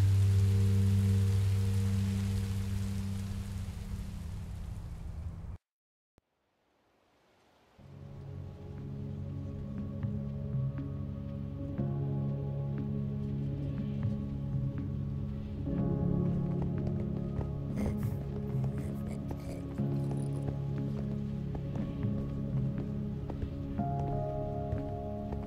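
Steady rain falling in Minecraft: Story Mode, a broad hiss that cuts out briefly and then returns with game music and scattered sounds over it.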